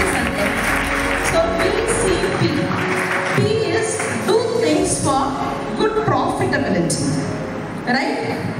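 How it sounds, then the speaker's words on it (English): Applause for a student called up to the stage at a school felicitation ceremony rises around a loud voice and blends with steady crowd noise that runs the full length of the clip. "a big round of applause to Sanjay"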